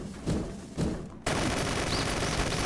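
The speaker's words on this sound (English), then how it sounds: "This laser gun's cool." Laser gun firing in a video game, a few sharp bursts followed by a sustained, loud stream of shots with whooshing zaps.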